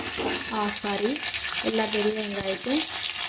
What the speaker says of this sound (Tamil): அதுக்கப்புறம் வெங்காயம், பெரிய வெங்காயம், அதையும் போட்டுக்கலாம்.